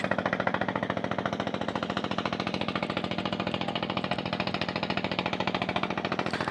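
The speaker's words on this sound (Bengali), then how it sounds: "দূরে মালবাহী ট্রলার যাচ্ছে ছোট্ট একটা ট্রলার" A small cargo trawler loaded with stones chugs along the Shitalakshya River at Demra, Dhaka, its engine throbbing in a fast, steady pulse that stays even and continuous throughout, with no voices.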